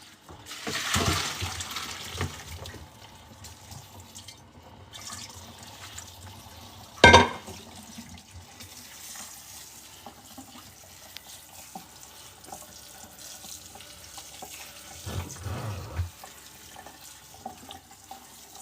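Cold tap water runs steadily over cauliflower in a colander in a kitchen, a soft continuous splash with a brief clatter partway through.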